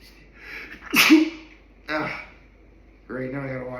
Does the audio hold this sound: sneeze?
yes